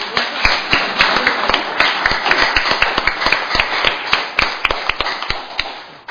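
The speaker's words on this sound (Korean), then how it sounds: "여러분 격려 박수 한번 부탁드립니다" Audience applause at a scholarly symposium on the March 1st Revolution: a dense, steady wash of many hands with sharper single claps popping out, fairly loud and close, with no talk over it.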